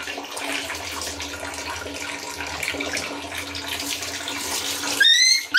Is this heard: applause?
no